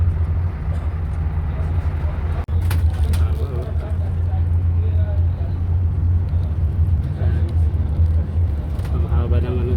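A double-decker bus rolling through heavy, slow city traffic gives a steady, loud low engine and road rumble that runs the whole time, with faint voices in the background.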